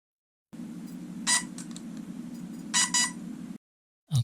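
Short electronic beeps from a DJI Mini 2 drone, sounding twice as a pair of bursts over a steady low hum, close and moderately loud.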